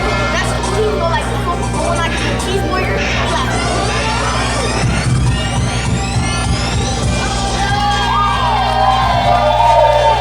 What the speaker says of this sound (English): And he's greeted with thunderous applause.